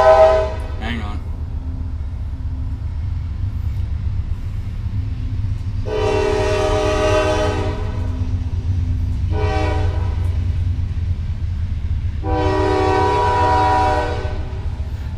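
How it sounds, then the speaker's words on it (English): A train rumbling past close by, its horn blaring in four long harmonic blasts, two of them sustained, over a steady low roar of rolling cars, with no speech heard. "Gotta love that train, man. They come by here like 19 times a day."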